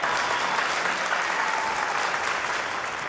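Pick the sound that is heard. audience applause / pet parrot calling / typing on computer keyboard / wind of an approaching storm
audience applause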